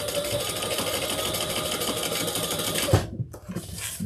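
A sewing machine runs steadily at speed, stitching a handbag seam with a close, even mechanical whir, then stops abruptly near the end, leaving a couple of quieter handling sounds.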